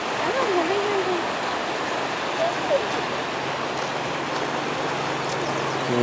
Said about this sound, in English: Here's some more waterfalls